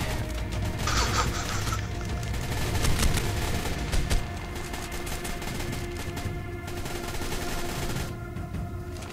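Gunfire rattles through the Ark Survival Evolved video game in a dense, continuous barrage of rapid shots and crashing impacts, loud and unbroken across the whole stretch, with no clear voices on top.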